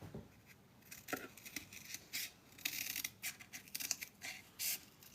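Scissors snipping through watercolor paper, a run of crisp close cuts in uneven rhythm over a few seconds, quiet and with no voices.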